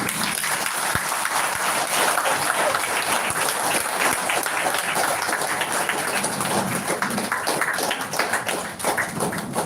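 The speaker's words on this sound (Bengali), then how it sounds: "সবাই দাঁড়িয়ে করতালি দিই" Hall full of people at a Golaghati minority block committee meeting standing and applauding, dense steady clapping that carries on for several seconds and fades slightly at the end.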